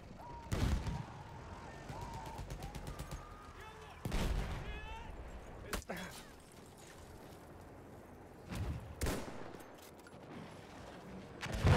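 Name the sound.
gunfire in the video game Incursions Alpha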